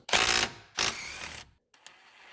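Wrench working a rusted 15 mm tie rod bolt on a 2010 Nissan Rogue AWD, heard as two loud close grinding, ratcheting bursts followed by silence and a couple of light metallic clicks.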